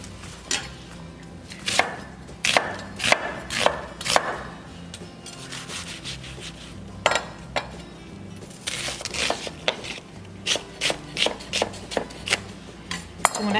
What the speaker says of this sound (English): To start, I'm going to chop some onions.